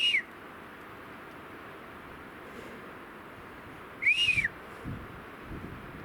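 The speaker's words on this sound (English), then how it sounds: "Dude, there's whistles all around me." Two short rising-and-falling whistles carry through a quiet forest, one at the start and another a few seconds later, moderately distant over faint background hiss.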